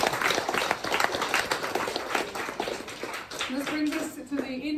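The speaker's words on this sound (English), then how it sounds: "please, one more big round of applause for James" Book launch audience for poet James Norcliffe giving a round of applause, a dense, moderately loud patter of clapping with a voice speaking over it near the end.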